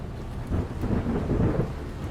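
Steady rain with low rolling thunder in a dark wartime scene from The Last of Us TV series, a continuous dense downpour swelling midway with deep rumbles, no voices.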